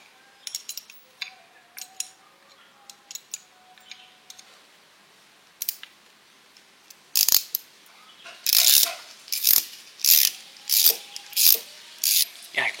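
A ratchet wrench clicks in quick bursts of sharp metallic pawl ticks while tightening a 12 mm bolt on the front shock absorber of a Polytron Fox electric motorcycle, with faint scattered clicks before loud close repeated strokes.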